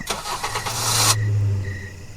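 A truck engine in a forest cranks but fails to start, giving a loud rough grinding burst that cuts off into a low lingering rumble, close and with no voices.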